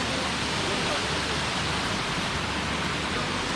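Rushing water at Nafakhum waterfall in the hills reached via Remakri, a steady, loud broadband roar filling the whole span without a break.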